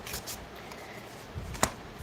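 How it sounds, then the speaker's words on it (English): A deck of tarot cards being shuffled gives soft, close riffling and flicking bursts, quiet and papery, with a single sharp snap of a card near the end. "I just shuffled the deck"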